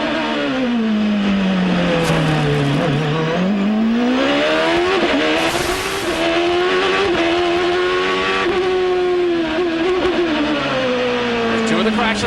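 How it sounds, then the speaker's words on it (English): From onboard a Champ Car at the 2005 San Jose street race, the engine screams at full throttle, its pitch dipping and climbing with each gear and corner, loud and continuous under a commentator's voice. "Let's take it full throttle around this place as he tries to chase down Ronnie Bremer"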